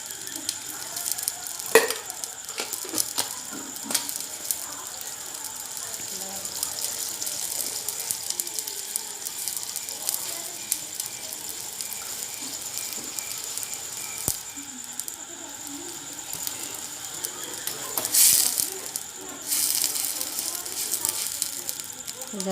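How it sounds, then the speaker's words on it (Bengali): Sugar and water boil into syrup in a pan, giving a steady soft bubbling sizzle that runs throughout with occasional stirring clinks and brief louder bursts. "এরপর আমি একটু ফুটিয়ে নিয়ে রসটা বানিয়ে নিচ্ছি।"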